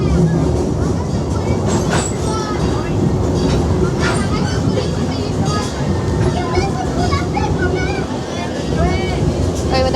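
A theme park train at PortAventura World runs on its rails with a steady rumbling roll and faint rhythmic clicking, close and continuous. People talk over it.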